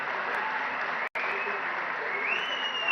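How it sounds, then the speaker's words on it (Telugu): An audience at a Telangana government workers' scheme event applauds, a dense, steady wash of clapping from a crowd that carries on through the whole stretch with only a brief cut. "మంచి పని చేసినప్పుడు మీరు గుర్తించి మీరు చప్పట్ల ద్వారా అభినందిస్తే"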